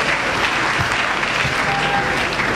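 A church congregation breaks into loud, sustained applause, a dense wash of clapping hands that holds steady throughout with a faint voice underneath.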